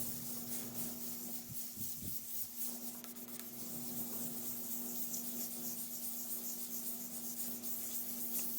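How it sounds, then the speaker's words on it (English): A guitar body finish is wet sanded with 1000 grit sandpaper, giving a steady, soft, continuous rubbing hiss under a faint constant hum. "I want to replace those thicker 800 grit scratches with these finer 1000 grit scratches"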